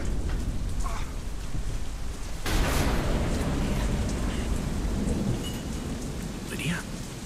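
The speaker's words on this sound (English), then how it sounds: "Storm." A thunderstorm with heavy rain in the video game Tales of Glory, a steady downpour hissing throughout, broken midway by a sudden crack of thunder that rolls on under the rain.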